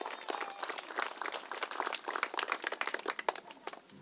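Warm applause for primary schoolchildren at an end-of-school-year event patters on for several seconds, fairly faint and distant, with uneven clapping bursts.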